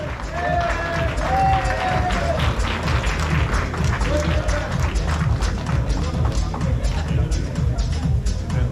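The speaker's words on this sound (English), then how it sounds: "Round of applause for Sanjay Singh, please." Sustained, dense applause from a gathered audience honoring a gold sponsor at an NIT Jamshedpur North America alumni meet in Atlanta. The clapping holds steady for the whole stretch, with faint voices murmuring underneath.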